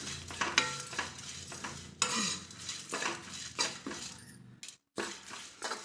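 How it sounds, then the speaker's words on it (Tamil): A spoon stirs and scrapes dried coconut roasting in a hot pan while it sizzles softly, with intermittent metallic clinks and one brief pause. "கொப்பரை தேங்காய் ஒரு ஸ்பூன் போல் சேர்த்துட்டு இந்த சூட்லேயே சும்மா அப்படி வறுத்து விடுங்க"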